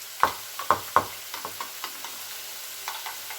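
A spoon knocks against a bowl three times in quick succession while Greek yogurt, parsley, salt and cumin are stirred together for a chicken taco sauce, then lighter stirring taps trail off, close and fairly quiet.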